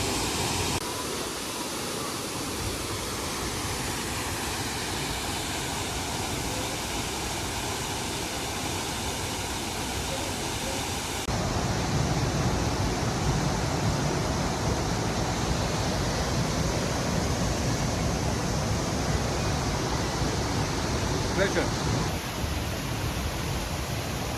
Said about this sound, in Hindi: यह है लपास वाटरफॉल।